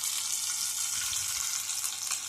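Hot tempering poured into yogurt for curd vadas makes a steady, close, fairly soft sizzling hiss throughout the short moment, with no voices.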